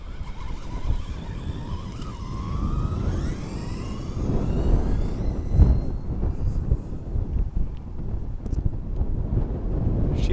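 A Traxxas Slash 2WD RC car on Castle 4S power making a top-speed pass outdoors, its motor whine climbing in pitch as it accelerates, amid rumbling wind noise on the microphone.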